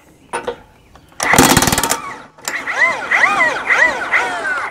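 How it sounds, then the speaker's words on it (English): An Ingersoll Rand 1-inch impact wrench bursts into a loud rapid hammering on a tire's lug nuts, followed by an engine-like whining rev that rises and falls several times nearby. "Ingersoll ran 1-inch impact wrench"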